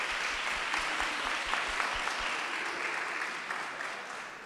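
Audience applause at a public meeting about Lake Arlington, Berry and Stalcup, a steady wash of clapping from a roomful of people that slowly fades toward the end.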